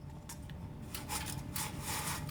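Window blinds in need of lubrication are lowered, giving faint scraping and rubbing bursts that squeak and rasp in short uneven strokes against a quiet background.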